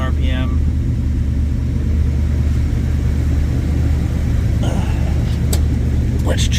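A warmed-up Jeep J10 engine idles at about 1,000 RPM, a loud, steady low rumble that holds even throughout, with a few faint clicks and a brief voice at the start.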